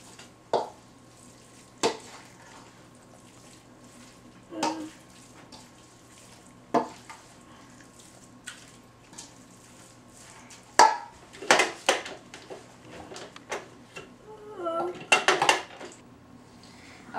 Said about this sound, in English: And you just mix it all together with the meat.